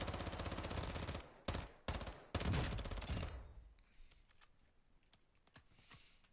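Rapid automatic gunfire in the video game DMZ, a loud continuous burst emptying a magazine followed by a few sharp separate shots, then quieter scattered distant pops.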